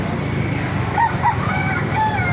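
Chickens and roosters at an outdoor poultry market in Baliuag, Bulacan, with several short clucks and calls over a steady, busy background murmur.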